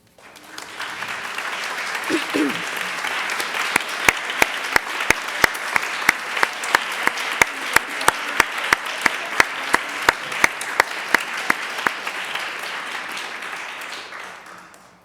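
A dinner audience rises in a standing ovation, dense applause building quickly and holding steady for about twelve seconds before tapering, with sharp individual claps standing out near the front; a brief voice is heard at the start.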